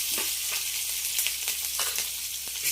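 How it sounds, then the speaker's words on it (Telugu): Mustard seeds and chopped green chilies fry in hot oil for making masala vadas, with a loud, steady sizzle and small crackling pops close up. "అవి ఆవాలు వేగేలోపు పచ్చిమిరపకాయలు వేసుకుందాం."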